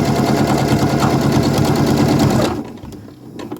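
A sewing machine runs steadily at speed, stitching jersey fabric with a twin needle, its fast rhythmic whirr filling the space up close before stopping abruptly, leaving a few soft clicks and handling noises.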